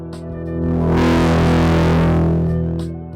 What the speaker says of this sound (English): This is broadly called preamp distortion.